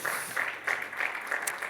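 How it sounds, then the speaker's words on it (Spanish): Church congregation clapping steadily during a Spanish-language worship service, a dense, continuous patter of many hands at moderate distance without pauses. "Dele fuerte el aplauso al Señor."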